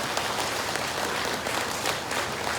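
Audience clapping loudly at a live talk, dense and sustained applause from a close crowd with no voices over it.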